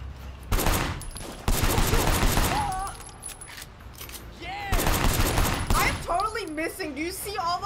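Heavy gunfire in the Sleeping Dogs video game, loud sustained bursts of rapid shots in two long volleys, with someone talking between and over them.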